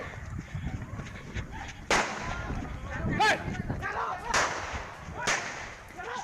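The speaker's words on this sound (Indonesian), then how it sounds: "suara tembakan polisi" Police gunshots ring out during a raid on a cockfighting gambling arena in Bengkulu, sounding as several sharp, loud cracks spaced a second or so apart over a murky background of voices and crowd commotion.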